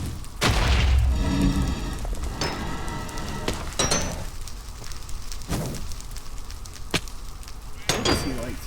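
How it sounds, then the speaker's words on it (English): Explosive fireballs shot by a mutant in Minecraft, heavy booming blasts with crackling fire and sharp impacts at intervals, one loud burst near the start and more scattered hits, someone talking over them. "Oh, he shot an explosive fireball."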